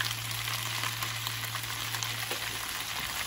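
Spices, salt, paprika and black pepper sizzle steadily in a hot pan, a dense, even crackle of frying with no voices, close and moderately quiet throughout.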